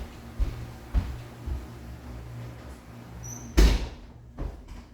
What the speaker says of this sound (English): Let me actually go close that door real quick.